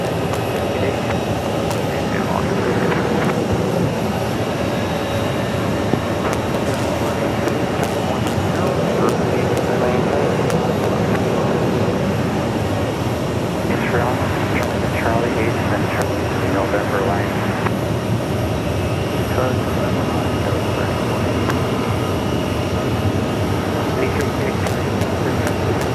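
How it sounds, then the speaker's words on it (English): An Airbus A320 operated by Frontier Airlines arrives at Phoenix Sky Harbor Airport, a steady distant jet-engine roar rumbling on for nearly half a minute beneath a continuous wash of background noise. "that's Frontier Airlines Flight 1375 coming in from Chicago Midway Airport."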